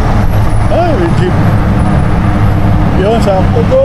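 Jeepney passing on a city street, a heavy engine rumble with steady road noise close by, while voices talk loudly over it.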